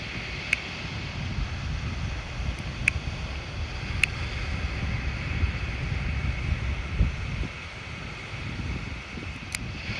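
Strong outdoor wind buffets the microphone with a continuous low roar and rumble, broken by a few faint clicks.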